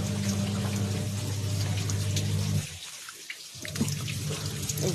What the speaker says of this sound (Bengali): জল পড়তে শুরু করেছে